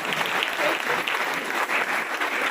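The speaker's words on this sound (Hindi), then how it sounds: "ताली बजा दो" An audience claps together in a steady, dense burst of applause that holds at an even level for a few seconds, close and loud, with no voices over it.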